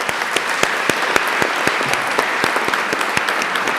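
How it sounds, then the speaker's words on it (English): Steady, loud applause fills a city council chamber at a San Antonio council meeting, dense clapping with sharp individual claps popping out, continuous for the full stretch with no talking over it. "Let's give them a big round of applause."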